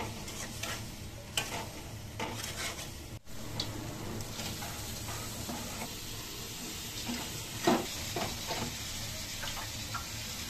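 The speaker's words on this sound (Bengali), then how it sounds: "মূলা দিয়া শুটকি রান্না করতেছি" Radish and dried lotka fish (shutki) cook in a pan: a continuous close sizzle with scraping stirs and occasional clinks of the spoon against the pan, with no voices over it.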